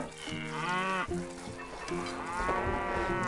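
Cattle in the strategy game Stronghold give a couple of loud, drawn-out moos, one overlapping the next, close and clear with no talking.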